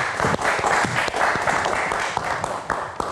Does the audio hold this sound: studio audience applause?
yes